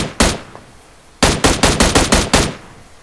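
Loud, close gunfire in the video game PUBG Mobile: a single shot, a pause, then a rapid burst of about seven evenly spaced shots, each with a short echoing tail.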